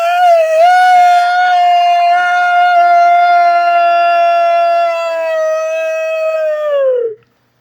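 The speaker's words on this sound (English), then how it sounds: "that was the alpha male wolf, gray wolf" A gray wolf, the pack's alpha male, gives one long, loud, steady howl that holds its pitch for about seven seconds before dropping off at the end, heard alone and close.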